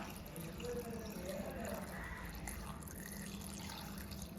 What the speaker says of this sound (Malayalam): ഇതിലേക്ക് വേവാൻ ആവശ്യമായ വെള്ളം ചേർത്ത് കൊടുക്കണം